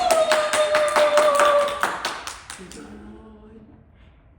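Children clap together before a Three Little Pigs puppet show, a dense run of quick claps that thins out and fades after about two seconds, with a clear tone and some talk over it early on.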